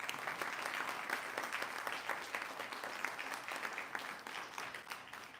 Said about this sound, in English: So I'll have one more big round of applause for our graduates.